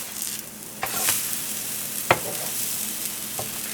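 A gingerbread buttermilk pancake cooks in a pan with a steady low sizzle, broken by a few short scrapes or taps from a spatula.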